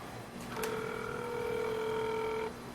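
A phone number being dialed for a call: a short run of touch-tone beeps gives way to a steady two-tone dial tone that holds for about two seconds and then cuts off, with faint room noise underneath.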